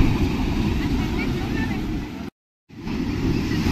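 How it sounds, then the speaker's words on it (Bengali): Surf rolls in at Digha beach on the Bay of Bengal under a darkening, cloudy sky, a loud, continuous roar mixed with wind buffeting the microphone, broken by a short silent gap. "যা ঢেউ উঠছে, যদি কেউ পরে ঢেউয়ের মুখে সে আর থাকবে?"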